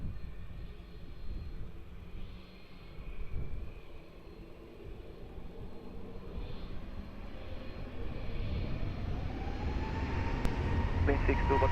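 A fixed-wing airplane takes off from runway 20 at Lisbon Airport. Its distant engine roar builds gradually over several seconds under a low rumble.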